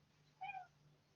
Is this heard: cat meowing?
yes